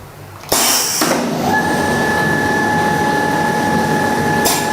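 A PLC-controlled piston filler for liquids and paste, air-compressor driven, starts with a sharp pneumatic burst and then runs on with a steady loud hiss and a sustained whine, ending in another short burst of air.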